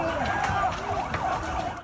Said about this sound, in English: sirens wailed and fire crackled after an Israeli drone strike struck several cars